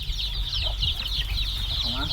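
Domestic laying hens cluck softly in short, scattered calls against a constant high insect-like hiss and low background rumble.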